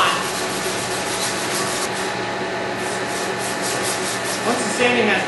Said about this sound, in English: Once the sanding has been completed,